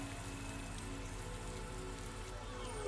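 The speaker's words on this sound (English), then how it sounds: "It's raining." Rain pours steadily in the rain-soaked city of Master Detective Archives: Rain Code, a constant dense hiss of drops on surfaces with low game ambience and tonal music beneath, even and unbroken throughout.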